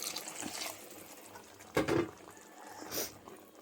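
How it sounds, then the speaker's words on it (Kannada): Water is poured into a pan of thick butter paneer gravy during cooking, with short splashes and trickles between quieter moments and no voices. "ಇದು ಸ್ವಲ್ಪ ಗಟ್ಟಿ ಇದೆ ಅಂತ ನಾನು ಚೂರು ನೀರು ಹಾಕ್ತಿದ್ದೀನಿ."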